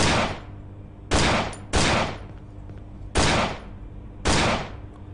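Five loud, close gunshots from a firearm in the horror game Cry of Fear, a Half-Life mod, each with a sharp crack and a lingering decay, spaced unevenly.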